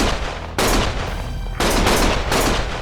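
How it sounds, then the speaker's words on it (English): Heavy gunfire in the action game Lost Judgment, with two or three loud, dense bursts of rapid shots separated by brief lulls, close and sustained with no talking. "Stop shooting!"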